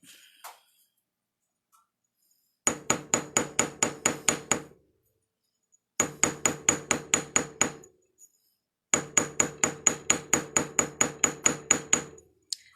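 A fine silver ring struck on a bezel mandrel with a hammer: three bursts of rapid, evenly spaced metallic taps, about ten blows each, loud and close with short pauses between.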